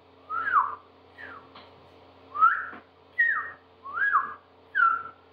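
A bird whistles a series of short, bright phrases, five or six separate notes spaced a second or so apart, clear and fairly close over faint background hum.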